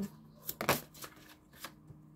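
Tarot cards are shuffled by hand in a few quick riffling bursts, close and fairly quiet, with short pauses between them.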